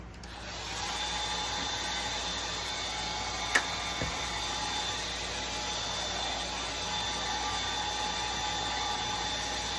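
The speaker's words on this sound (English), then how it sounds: "She's using a hair dryer here." A hair dryer blows steadily with a constant airy whoosh and hum, close by, with a single sharp tap partway through.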